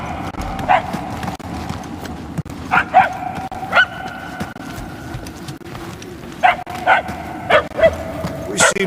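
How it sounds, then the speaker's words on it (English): Dog barking in the Marvel's Guardians of the Galaxy video game, a few sharp barks spread out over a steady game background hum, with no talk over them. "I can hardly hear the dog."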